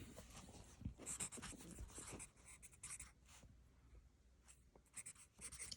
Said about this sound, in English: I'm going to write acquisition